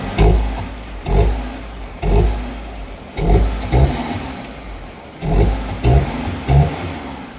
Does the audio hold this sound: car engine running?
yes